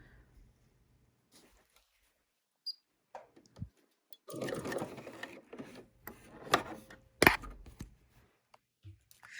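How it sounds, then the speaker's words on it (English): A sewing machine stitching a few stitches along a folded fabric edge for a reusable tote bag, heard as short close bursts of mechanical whirring and clicking between pauses and small handling sounds. "And of course I'm going to stitch a few stitches, but I'm not going to sew over my pin"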